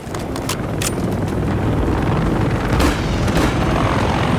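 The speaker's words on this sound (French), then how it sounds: "Les renforts descendent des hélicos." A helicopter arrives in the video game Call of Duty: Modern Warfare 3, a loud, dense rotor roar with wind-like rumble and scattered thuds of battle, sustained throughout.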